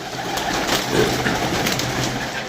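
Pigeons coo softly amid a constant outdoor wash of background noise, their low murmuring calls partly masked and blending into the steady ambience.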